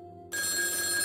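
A telephone rings in the horror video game Undying, starting abruptly after a brief quiet lead-in and holding as a steady, bright electronic bell tone for the rest of the moment.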